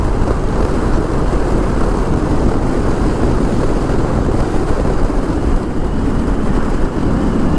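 Heavy trucks passing on both sides of a road while riding a TVS Jupiter scooter, a loud steady rumbling roar with constant wind noise and no break, no voices.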